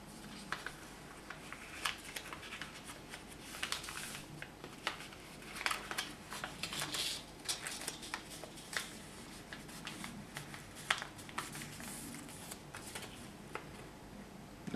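Soft, close crinkles and creases of origami paper being folded into a mouse, a quiet run of small rustles and sharp fold snaps with no talk.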